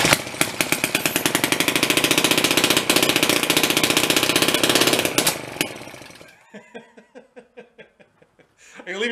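Pre-war Elgin cycle engine, left sitting in a barn for at least 45 years, runs with a loud, rapid rattling chug that cuts out after six seconds, followed by slow, spaced coughing pops as it tries to catch again.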